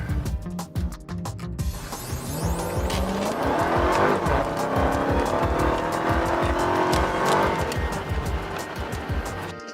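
A 2016 Dodge Charger Hellcat roars under hard acceleration, its loud engine note rising through the gears. Tires squeal and scrub along the way, and a brief voice is heard at the start before the engine takes over.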